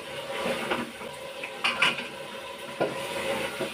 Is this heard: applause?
no